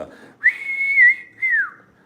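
A person whistles a high, sustained tune alone, one long held wavering note followed by a shorter falling phrase, clear and close.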